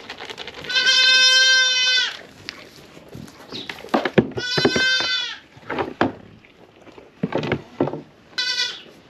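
Dairy goats bleat inside a goat barn, several loud, drawn-out calls close by alternating with shorter bleats, rustling and shuffling between them.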